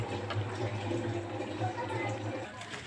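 Hot water from a kettle pours steadily into an oven tray holding yogurt bowls, a continuous splashing fill that stays close and even.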